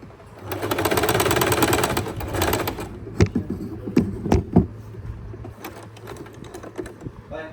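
Sewing machine stitching saree fabric into a dress, a steady close whirring run of stitching for about two seconds, then short separate bursts and clicks as the cloth is adjusted.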